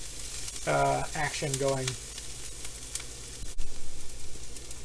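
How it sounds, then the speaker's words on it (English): Steady frying sizzle from kimchi fried rice in a pan, with someone talking briefly over it near the start and a clink of a utensil later. "So you're basically frying and warming up and getting some crisping"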